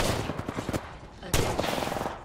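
Gunfire in the shooter game Overwatch, a burst of rapid shots followed by a second louder volley after a pause, dense and close, with a faint voice in the background.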